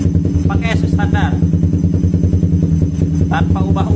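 A motorcycle engine with an aftermarket WRX exhaust on a stock ECU idles with a fast, steady burbling pulse, close and loud, while people talk over it.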